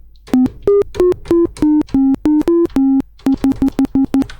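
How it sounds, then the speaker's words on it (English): A VCV Rack modular synthesizer patch played from a keyboard, a loud, clean buzzy tone sounding a melodic run of separate notes with short gaps, ending in a quick series of staccato repeats, with no voices. "let's just listen at the moment what we've got on the keyboard"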